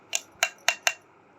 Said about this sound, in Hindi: इसी तरीके से मैं सारी खशखाश आहिस्ता आहिस्ता से इसके अंदर शामिल करूँगी।